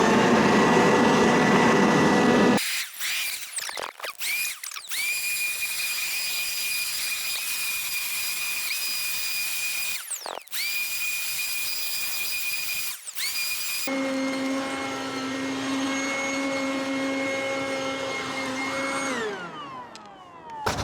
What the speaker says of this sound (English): the noise that the vacuum was making started to change a little